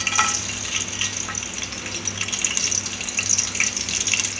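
Cinnamon, cloves and cardamom sizzling in a quarter litre of hot oil for kuska, a steady close crackling hiss that stays even throughout with a faint low hum beneath and no talk.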